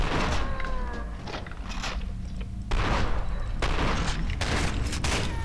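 Shotgun blasts in the video game FEAR 2 Project Origin come as repeated loud booms over a dense game soundscape, with several shots fired at irregular intervals.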